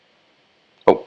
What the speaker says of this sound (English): Oh, that's the eraser.